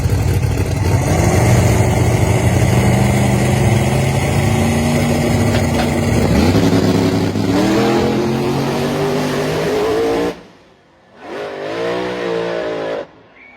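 Small-tire drag race cars launch and accelerate hard down the strip, a loud sustained engine roar with rising harmonics that cuts off abruptly, then a second engine surges back briefly.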